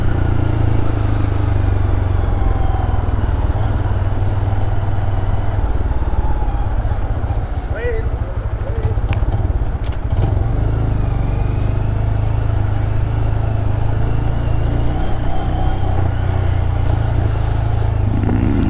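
A 2022 Honda Grom motorcycle rides through traffic, its small engine droning steadily under heavy wind rush, with brief throttle changes and surrounding vehicles passing.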